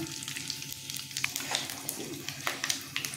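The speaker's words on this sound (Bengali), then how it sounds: "আর এখানে মেথি, জিরে আর কালো জিরে ফোড়ন দিলাম" Fenugreek, cumin and nigella seeds hit hot oil in a pan, giving a steady close sizzle with sharp little pops and crackles scattered throughout, with no voices.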